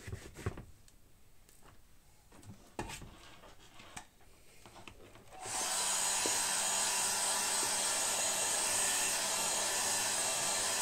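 Hair dryer blasting acrylic paint layers on a loose landscape painting, starting about halfway through with a loud, steady broadband whoosh after quiet handling noises.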